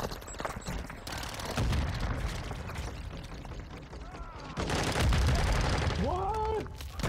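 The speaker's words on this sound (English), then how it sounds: "I'm taking fire." Rapid gunfire bursts and booming explosions from the video game Call of Duty MW2 fill the scene, loud and dense, with brief lulls between volleys and low rumbles of blasts.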